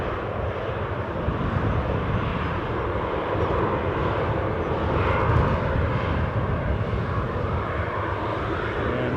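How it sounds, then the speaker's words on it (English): A Ryanair Boeing 737 airliner departing Newcastle airport roars with a continuous, broad jet-engine rumble that swells slightly in the middle, heard from nearby with no voices over it. "This Ryanair outgoer to Alicante,"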